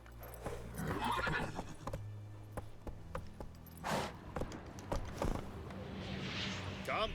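A horse in The Witcher 3 video game whinnies loudly, with steady clip-clop hoofbeats underneath and a few sharp thuds, all close and clear.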